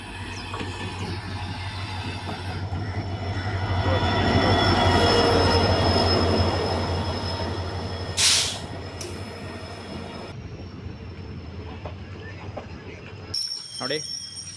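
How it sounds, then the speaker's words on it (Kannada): A Mysore–Arsikere passenger train rumbles into a railway station steadily, its rolling noise swelling and then easing, with a brief high screech of wheels; voices can be heard nearby. "ಟ್ರೈನ್ ಬತ್ತೈತೆ ಇದೇ ನಾನು ಟ್ರೈನ್ ಹತ್ಕೊಂಡು ಹೋಗ್ಬೇಕಾಗಿರೋದು"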